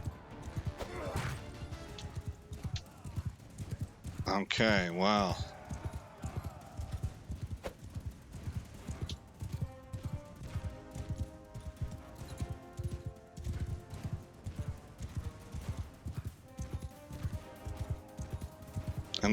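Galloping hooves clatter steadily through a medieval battle in Crusader Kings 3, with one sharp horse whinny cutting through midway; someone speaks briefly near the end over the ongoing hoofbeats.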